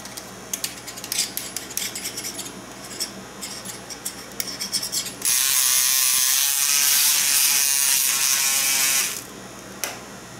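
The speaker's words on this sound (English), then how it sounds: "Give that a good mix." A small electric mixer whirs steadily for a few seconds, mixing a tiny batch of model paint for a 1/32 scale Tamiya F4U, after scattered clicks and handling noises at close range.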